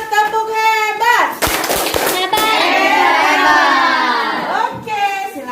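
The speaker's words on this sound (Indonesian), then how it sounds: "Kita berikan tepuk tangan." Pupils in a classroom clap together after a group presentation about the planets, a burst of dense applause lasting several seconds, with a teacher's voice and children's speech heard before and after.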